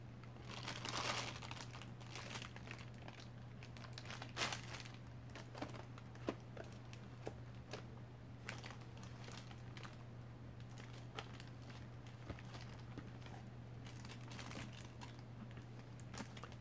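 Crayons and colored pencils being dug out and handled for coloring a pocket letter craft: near, continuous crinkling and rustling with scattered light taps over a steady low hum.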